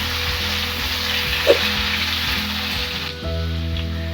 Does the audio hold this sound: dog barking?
no